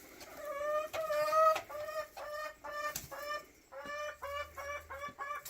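Hens in a backyard pen give a run of soft, rhythmic clucks in quick bursts with short pauses between, fairly quiet and close, with no talking.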